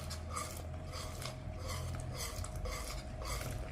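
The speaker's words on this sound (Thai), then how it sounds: "เราก็จะใส่ลงไปในแป้งกวนเลยค่ะ" Coconut milk, rich 200 ml mixed with water to about 350 ml, goes into flour for a Thai dessert and is stirred with a spoon against the bowl, giving a steady, close scraping swish with a low hum behind it.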